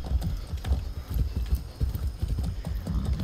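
Horse hooves clip-clop in a steady walking rhythm in the video game Far Cry 6, close and fairly loud, with faint background ambience and no talking.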